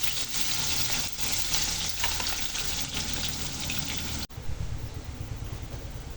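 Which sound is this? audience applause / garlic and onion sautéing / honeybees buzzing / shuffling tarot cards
garlic and onion sautéing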